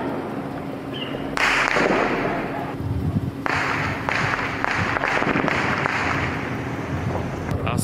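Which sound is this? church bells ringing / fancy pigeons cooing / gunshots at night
gunshots at night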